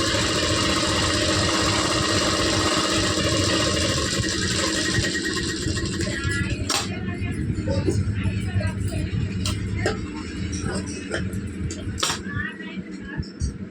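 A sewing machine stitches a blouse seam with a continuous mechanical hum and rattle. It softens partway through, and sharp clicks and taps are heard now and then.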